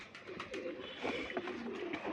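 Several pigeons coo softly at a loft, their low rounded calls repeating in overlapping bursts, close by and fairly quiet.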